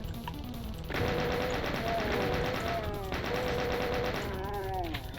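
Chaingunner enemies in Doom II fire their chainguns in rapid, sustained rattling bursts, loud and continuous over game music with short pauses between volleys.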